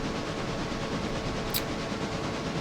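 Freight train pulled by SD7 locomotives rolling on rails toward Hemingway, a steady continuous rumble and rail noise with a brief high hiss partway through, no talking.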